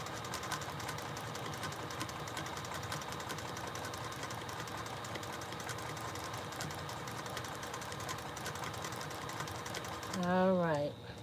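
A sewing machine doing free motion quilting along a seam runs in a steady, continuous mechanical whir that holds nearly unchanged throughout, ending in a brief louder surge.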